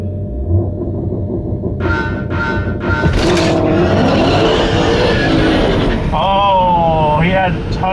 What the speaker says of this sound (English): Yeah, you can definitely hear that wheel spin.